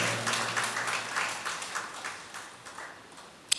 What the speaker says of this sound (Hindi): आपने ताली तो बजा दी